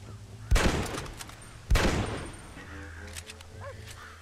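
Gunfire in the Western game Red Dead Redemption, with a corn field nearby: two loud, booming shots about a second apart, each trailing a long echoing decay over faint background ambience.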